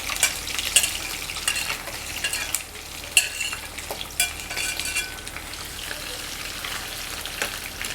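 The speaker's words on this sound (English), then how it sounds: "I'm just going to fry this until it's crispy and brown" Chicken gizzards crackle and sizzle in a hot pan while being stirred, with a steady close hiss and sharp spatters and scrapes at uneven intervals.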